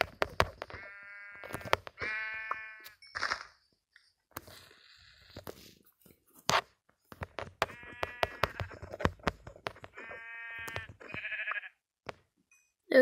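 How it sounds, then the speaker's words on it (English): Sheep in the video game Minecraft bleat several times, short nasal calls in a loose sequence, mixed with clicks, footsteps and other game sounds. "There's another sheep over there. Actually, two sheep, which is really good."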